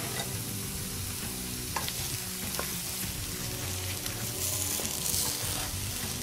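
Potatoes and peas stirred and frying in a pan, a continuous close sizzle with scraping and clinks from the utensil throughout.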